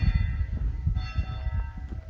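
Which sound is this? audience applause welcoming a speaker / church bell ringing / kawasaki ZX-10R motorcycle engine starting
church bell ringing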